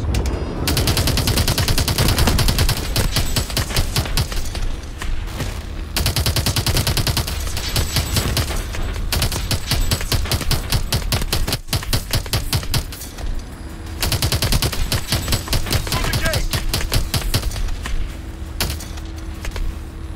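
Rapid automatic gunfire and missile blasts in the video game Call of Duty Advanced Warfare, loud and dense bursts of shots with brief pauses, continuing through the whole stretch.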